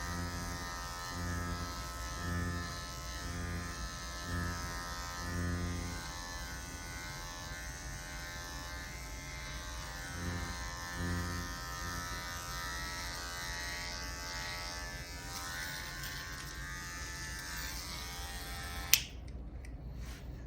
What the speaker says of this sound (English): I will go around and clean up with my trimmer before doing the mustache here